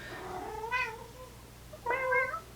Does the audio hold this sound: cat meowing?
yes